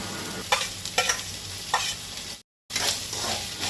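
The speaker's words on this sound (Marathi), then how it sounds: "कांदोय आतां बरो 2-4 मिनटां परतून घेवपाक जाय।" Sliced onions and green chillies sauté in oil for a Goan fish thali, a dense close sizzle punctuated by a few stirring scrapes, briefly cut to silence before the frying resumes.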